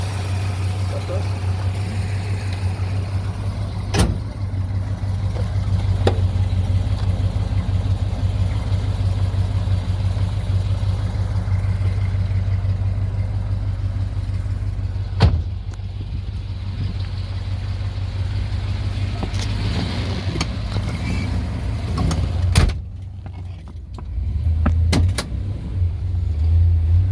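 Original 1965 Chevrolet Malibu SS with the L79 engine and 4-speed manual out on a drive, a steady low engine drone and road rumble from inside the car with occasional thumps, and people talking over it.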